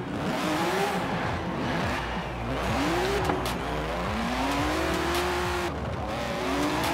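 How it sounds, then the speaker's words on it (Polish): A Chevrolet Silverado 1500 pickup in Forza Horizon 4, stock with no upgrades, drifting. The engine revs rise and fall through several gear sweeps, with tire squeal over a steady loud roar. "Silverado 1500, jak to brzmi, posłuchajmy."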